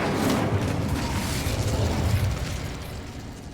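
Incendio fire spell blast in the video game Hogwarts Legacy, a loud whooshing roar of flame with a low rumble that fades toward the end.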